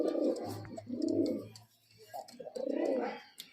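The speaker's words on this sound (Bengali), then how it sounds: "এই যে পায়রা দুটো দেখতে পাচ্ছেন দুটোই কিন্তু নর পায়রা।" Two male high-flying Giribaz pigeons coo close by in repeated low, rolling phrases with short pauses between them, clear and alone without talk.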